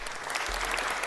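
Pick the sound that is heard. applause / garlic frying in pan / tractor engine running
applause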